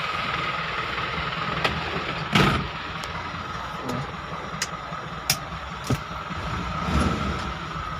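An Isuzu 4HF1 diesel truck engine, freshly top-overhauled after overheating, idles steadily with a low, even rumble, broken by a few sharp clicks and knocks nearby.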